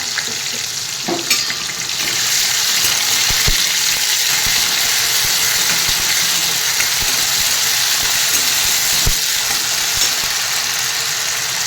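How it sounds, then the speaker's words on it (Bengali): Chopped tomato and ginger paste fry in a pan with a loud, steady sizzle, broken by a few sharp knocks of stirring; no one speaks. "টমেটো দিয়ে দিলাম, দিয়ে দিচ্ছি আদা বাটা"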